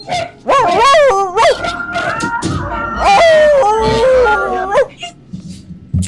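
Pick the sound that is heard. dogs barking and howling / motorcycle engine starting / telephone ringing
dogs barking and howling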